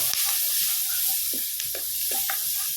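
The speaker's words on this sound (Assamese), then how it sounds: "সৰুকৈ কাটি থৈছিলোঁ এই পিঁয়াজ দি লৈ এইখিনি ভাজিব" Chopped onions sizzle and fry in hot oil and butter in a pan, a steady close hiss with soft stirring scrapes, no voices.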